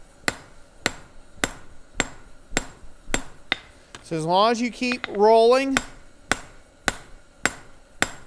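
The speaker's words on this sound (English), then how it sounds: "into each hammer blow and you keep your hammer blows consistent, you create a nice, can they see that all right?" Hammer blows on hot metal at a forge ring out in a steady, evenly spaced series of sharp, loud metallic strikes, about two per second, pausing briefly while someone speaks close by.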